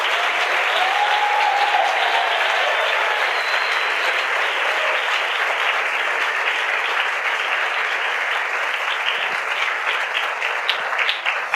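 A church congregation gives a loud, sustained round of applause for the Lord. Dense clapping carries evenly for over ten seconds, with no voices standing out.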